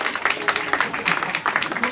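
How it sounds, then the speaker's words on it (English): A live comedy-show audience claps for a brief moment, with a loose flurry of hand claps rising into scattered applause at close to middle distance. "Clap if you are for spanking children."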